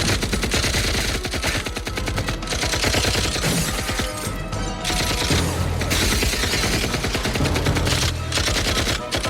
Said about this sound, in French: Ne tirez pas, vous entendez? Cessez le feu!